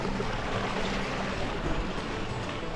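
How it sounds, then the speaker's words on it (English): A small waterfall beside a mountain trail gives a steady, close, even rush of splashing water that never pauses, with no voices over it. "A little waterfall right there on the side of the trail."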